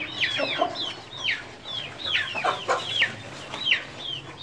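Aseel chickens and roosters cluck and call repeatedly after rain in Mandi Bahauddin, a close chorus of overlapping squawks and clucks with farm ambience beneath.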